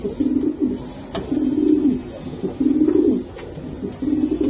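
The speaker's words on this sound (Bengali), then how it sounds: "তারেক ভাই সত্যি কথা, আজকের কবুতর গুলা ভাই আমার দেখে না এত পছন্দ হয়েছে" Pigeons coo in repeated low rolling phrases, several soft bursts in a steady rhythm, fairly close, with faint background noise and no talk.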